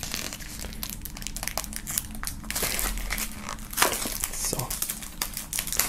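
Plastic foil wrapping crinkles and tears steadily as it is pulled off a set of stickers from a music box set, with a brief spoken word near the start.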